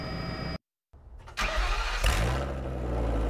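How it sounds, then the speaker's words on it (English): A Toyota Prius with its catalytic converter stolen starts up after a brief silence, then settles into a loud, rough exhaust roar that rumbles steadily at close range. "Oftentimes, it's not a missing muffler, but a carried-off catalytic converter behind the loud exhaust"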